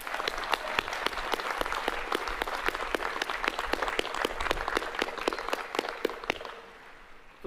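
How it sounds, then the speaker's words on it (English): Crowd applause for cum laude graduates at a Miami University spring commencement, steady dense clapping with sharp individual claps standing out, sustained for several seconds before fading away at the end. "Let's give them a big round of applause for that big accomplishment."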